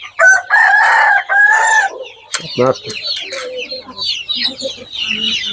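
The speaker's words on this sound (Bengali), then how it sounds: "মুরগি ভরপুর মুরগির অভাব নেই মুরগি আর মুরগি মুরগির কোনো শেষ নাই দেখেন" A rooster crows loudly at the start, then many hill and local breed chickens cluck and chatter nearby on a farm in a busy, continuous flock.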